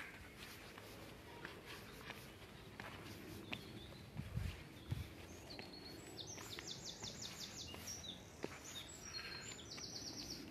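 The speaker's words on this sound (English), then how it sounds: "the black cap just came in, but outperformed by the wren" A blackcap and wrens sing in a city park in May, the wren's rapid trilling runs dominating in the second half over low background rumble, with a few soft thumps.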